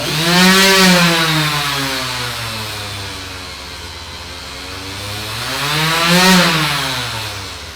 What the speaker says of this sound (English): So it's at full speed right now, and I'll adjust it down to 1.